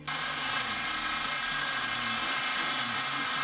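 A carbide drill bit bores through a thick metal bumper on an Acura RSX, a loud, steady, high-pitched grinding whine that runs unbroken from start to finish.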